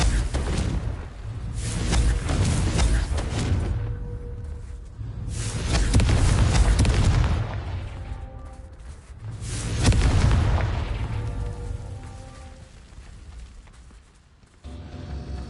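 Confringo blasting spells in Hogwarts Legacy burst in three big, loud explosions, each with a whooshing onset and a rumbling decay, over continuous game ambience.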